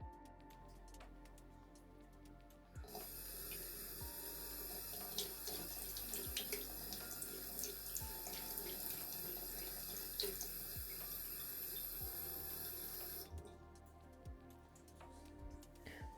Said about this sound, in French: Allez, on rince.